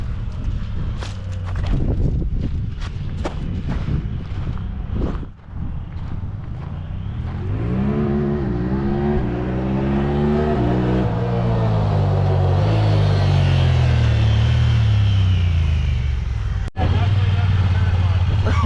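A rebuilt UTV engine, brought back after a wreck, fires up and runs with a steady low rumble, its revs sweeping upward in rising harmonic bands, loud and close, while people talk excitedly over it.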